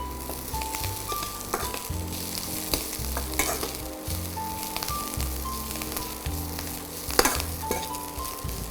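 Onion, mint and coriander sauté in a pan with a continuous close sizzle and crackle. Rhythmic scraping stir strokes come about once a second, and there is no talking.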